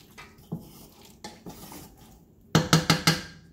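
A spoon stirs and scrapes through beef stew in a metal pot being readied for canning, with a few scattered clinks and then a quick burst of four sharp metallic knocks near the end.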